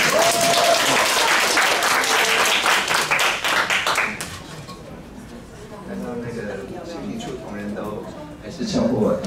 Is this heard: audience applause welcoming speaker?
yes